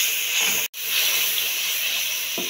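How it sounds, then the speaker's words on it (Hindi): Spices for matar pulao frying in a pan give off a steady, bright hissing sizzle that cuts out for a split second early on, then carries on evenly with no voices. "अब हम तमाम मसालों को अच्छी तरह से इसको फ्राई करेंगे।"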